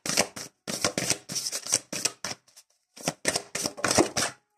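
Oracle cards are shuffled and drawn from a deck in quick bursts of crisp riffling and flicking, close and clear, with a short pause before a final run of shuffles.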